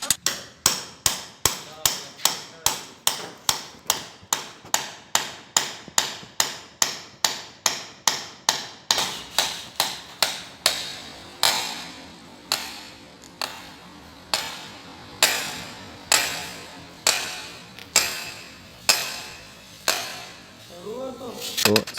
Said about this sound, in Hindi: तो ये इसमें स्टील ठोक रहे हैं।